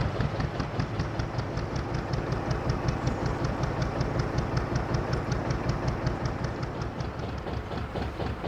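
A narrowboat engine chugs steadily while the boat reverses about 50 yards to its mooring, a loud, close, even rhythmic thump that runs unbroken throughout with no speech.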